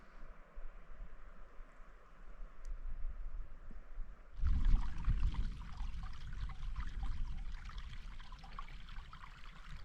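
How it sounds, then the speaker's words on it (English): Quiet running water flows softly as a river falls into a glen in northwest Scotland, then grows into a fuller rushing pour after a few seconds, continuing steadily with no talking. "just the sound of the river falling down into the glen"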